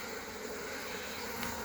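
Honeybees buzz as a dense, steady, fairly faint hum while a Langstroth hive is opened for inspection, with no talking.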